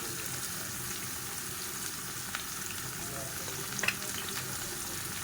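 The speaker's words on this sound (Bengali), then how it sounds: "এই যে এগুলো তেল দিয়ে পাঁচফোড়ন দিয়েছি, তেল দিয়ে এগুলো সব দিয়ে দিলাম" Panch phoron spices frying in oil, a quiet, steady sizzle with soft crackles and a small cluster of pops toward the end, heard close without speech.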